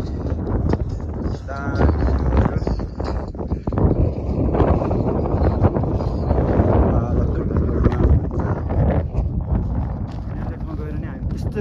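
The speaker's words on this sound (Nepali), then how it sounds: "तर हावा चाहिँ त्यस्तै आयो क्या" Strong gusting wind on a mountain trail near the Annapurna glacier buffets the microphone with a loud, rough roar throughout, while people talk under it.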